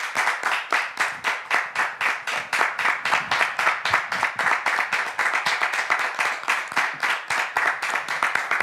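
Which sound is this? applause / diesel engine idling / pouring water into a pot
applause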